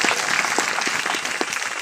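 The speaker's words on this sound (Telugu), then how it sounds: "కోటి చప్పట్లు గట్టిగా." Loud, dense applause from an audience at an outdoor gospel meeting in a village, steady throughout with no break.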